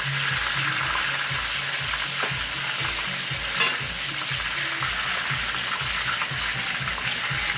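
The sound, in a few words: frying food in pan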